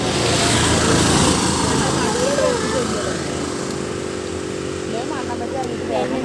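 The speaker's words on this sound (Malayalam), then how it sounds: "ഇതാ ബസ് വരുന്നുണ്ട്" A bus pulls up to a roadside bus stop with a loud, steady engine rumble and road noise that fades slightly as it nears, with faint voices in the background.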